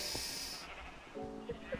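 Sheep bleat on a farm in a video game, two short bleats near the end over a busy, noisy game background.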